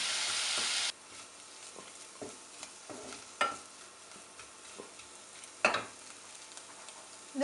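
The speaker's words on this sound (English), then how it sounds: "Fry the onion until golden." Onion frying in a pan for a fish curry, a quiet steady sizzle with a few sharp stirring scrapes and knocks, close up and without speech.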